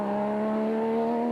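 A South African Nissan Navara rally truck races at speed in the Lesotho Sun 400, its engine holding a steady, loud, continuous drone throughout the brief moment.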